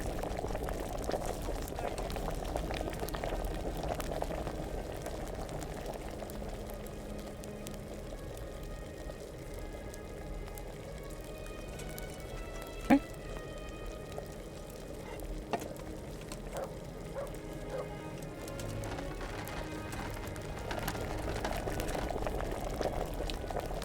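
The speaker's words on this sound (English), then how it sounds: "Add the Valerian and boil" A valerian potion boils in an alchemy cauldron in Kingdom Come: Deliverance, giving a steady, low bubbling and simmering bed. Faint clinks are scattered through it, with one sharper knock in the middle.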